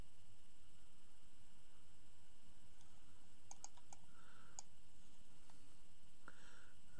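A few sparse, faint computer mouse clicks, small isolated ticks against a quiet background hiss.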